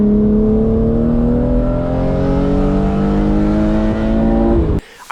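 BMW E36 M3 engine revving while driving through mountain canyons, a loud in-car drone with harmonics climbing steadily as it pulls through the gears, then cutting off abruptly near the end.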